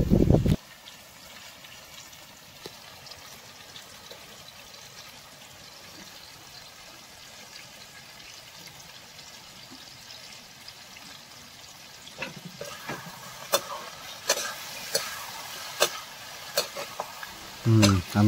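Fish sizzles and fries steadily in a hot pan, a constant crackling hiss that grows busier toward the end as it is stirred, with sharp scrapes and clinks of the utensil near the close.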